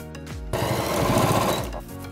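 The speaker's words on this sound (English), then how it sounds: "Loop it through and just sew it in place." A sewing machine stitches a strap onto a crossover bag. A fast, rapid needle chatter runs loud and close for about a second and a half, framed by quieter handling sounds before and after.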